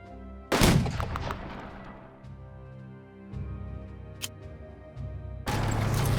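Tanks fire at an enemy unit in the strategy video game Unity of Command II, a sharp booming shot that rings out and decays, followed by smaller impacts and rumbling battle effects.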